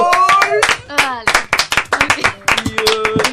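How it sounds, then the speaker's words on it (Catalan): Sharp, close hand claps ring out after a magic trick in which a nail vanishes, a quick irregular run of claps heard under and between lively talk and voices. "Un aplaudiment, senyors"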